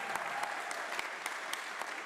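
An audience at a music academy recital applauds a piano performer with soft, continuous clapping heard from a distance, a few sharper individual claps standing out near the microphone.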